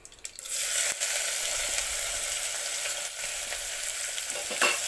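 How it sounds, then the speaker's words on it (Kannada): Finely chopped onions hit hot oil with a soft thump, then settle into a steady, even sizzle that carries on without talk. "ಈರುಳ್ಳಿ ಎಲ್ಲ ಕೆಂಪುಗಾಗಬೇಕು, ಅಲ್ಲಿ ತನಕ ಚೆನ್ನಾಗಿ ಫ್ರೈ ಮಾಡ್ಕೊತೀನಿ"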